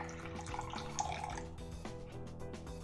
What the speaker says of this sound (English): So we're gonna get some warm water here.